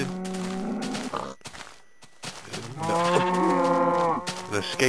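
A cow in the Minecraft video game lets out repeated loud, drawn-out moos, with a short quiet gap midway before a long, full moo.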